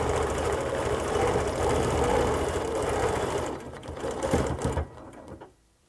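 A sewing machine runs steadily while free-motion quilting a clamshell pattern on fabric, a continuous close mechanical hum that stays even for most of the stretch, then becomes uneven and stops, leaving quiet at the end.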